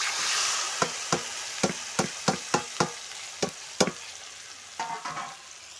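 Marinated loitta (Bombay duck) fish being stirred through hot oil in a pan, a soft steady sizzle broken by about ten sharp scraping clacks of the spoon, then a brief rattling flurry near the end.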